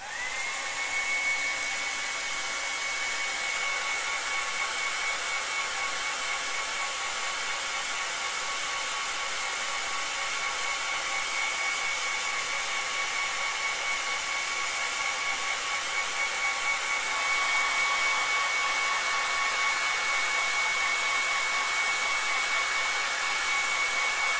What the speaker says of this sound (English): I need to grab the hairdryer just to speed this up a bit